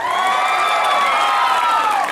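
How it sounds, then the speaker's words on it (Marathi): Audience applause and cheering after a lavani dance performance at a Shivaji Maharaj Jayanti festival dance competition in Palivali, Bhiwandi, a steady dense wash of clapping and crowd noise lasting about two seconds. "जेवढी आवडली तेवढी टाळ्या वाजवा"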